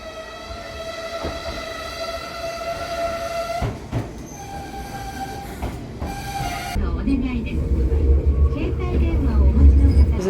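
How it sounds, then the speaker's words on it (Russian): The small Petit Train running near Kamakura, Japan: a close rail car hum with sustained tonal whine and wheel squeal, clacks and clunks, then louder rumbling as it rolls on, with some faint voices underneath. "здесь мы сядем на маленький поезд, Petit Train"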